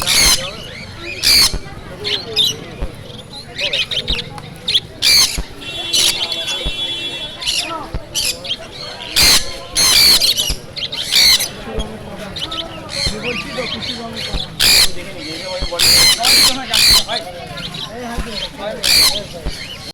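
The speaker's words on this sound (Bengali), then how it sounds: "এখানে পাখির কলহল থেকে সমস্ত রকম আওয়াজ দেখতে পারবেন" A crowded pet bird market at Naihati, with many caged birds squawking, chirping and chattering in a busy, overlapping din, sharp loud calls repeating throughout, while people talk nearby.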